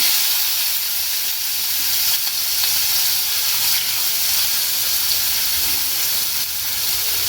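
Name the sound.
chopped onion added to hot oil, sizzling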